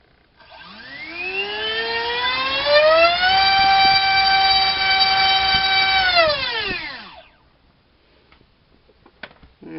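A DYS 2205 2750kv brushless motor on a thrust test stand whines upward in pitch, holds a loud steady tone for a few seconds, then winds down, leaving faint clicks and rustle.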